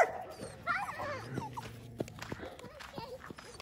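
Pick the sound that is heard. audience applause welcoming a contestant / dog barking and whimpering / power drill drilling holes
dog barking and whimpering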